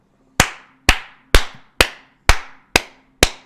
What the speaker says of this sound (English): Let's clap in 3, 2, 1. So we can sync.